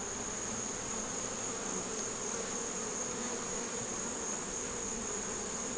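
Honeybees hum steadily at a crowded hive close to swarming, a dense continuous buzz of many insects at close range with no talking.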